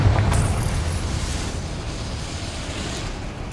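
A Confringo blasting spell bursts in Hogwarts Legacy with a heavy rumbling explosion, starting loud and sustaining a dense, roaring wash of noise that lingers across the whole stretch without any speech.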